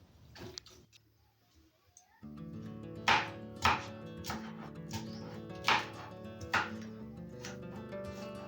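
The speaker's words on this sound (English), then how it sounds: "Next, I'll chop onions and tomatoes after washing them." Onions and tomatoes are chopped on a board in a home kitchen, several sharp knife strikes at an uneven rhythm against a steady background hum.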